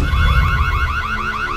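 An alarm device hidden under an office desk goes off loudly nearby with a rapid, repeating warbling electronic whoop, like a car alarm, sounding continuously.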